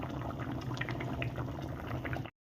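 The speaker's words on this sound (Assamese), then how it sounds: "দি পেলাই আকৌ 2 পৰা 3 মিনিট সময় ভালদৰে উতলিব দিম।" Fish curry with fried eggplant simmers in a pot, giving a steady, close bubbling and gurgling that runs without pause until it cuts off abruptly.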